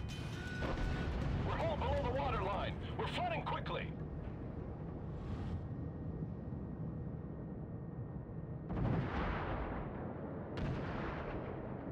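Heavy main guns of the Tier IV US battleship Wyoming firing in a naval warfare game, a few deep booming blasts with rumbling tails, loud over continuous engine and sea noise, with speech in the first seconds.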